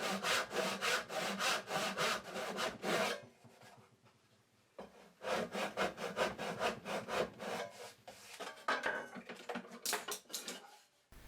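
Hand saw cutting partway through the end of a mitered wooden box held in a vise, with rapid rhythmic back-and-forth strokes. A short pause comes partway through, then sawing resumes with the same close, scratchy strokes.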